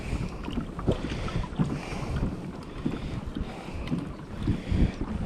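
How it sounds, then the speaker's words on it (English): A small boat is paddled into a headwind on open water, with rhythmic paddle strokes and splashes set against a constant rumble of wind buffeting the microphone. "I'm paddling into a bit of a headwind here."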